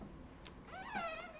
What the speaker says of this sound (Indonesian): It was just a cat. I think she was hungry.